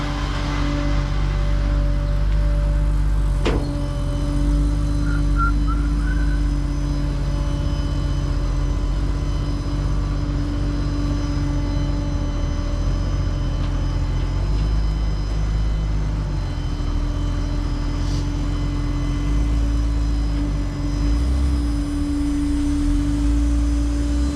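A Porsche 993 creeps slowly up onto an alignment rack at a specialty shop, its engine holding a steady, close, loud low rumble that barely changes throughout.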